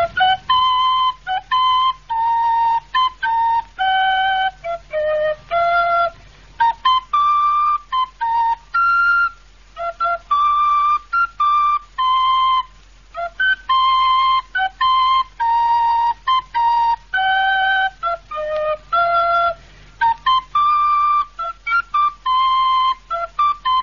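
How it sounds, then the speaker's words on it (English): A clear, melodic whistled tune carried on steadily in short phrases, close and fairly loud, with no talking. "I've heard it being whistled, Mr. Nickerson."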